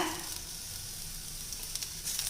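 Cooked rice being stirred and heated in a pan for a lunch box dish, giving a steady, fairly loud sizzle with soft scraping and small crackles throughout, no talking.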